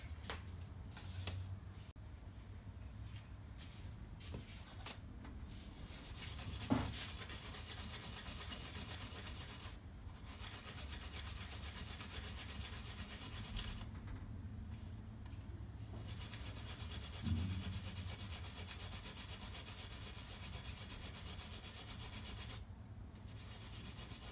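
A steel wire wheel scrubs paint off a brass ID badge with a continuous close rubbing, grinding sound, broken by short pauses and a couple of louder knocks; no voices.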